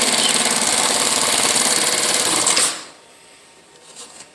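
A Kingmax small pattern sewing machine stitches 2-inch safety belt webbing with a loud, rapid mechanical chatter for a few seconds, then stops abruptly, leaving quiet room noise with faint clicks.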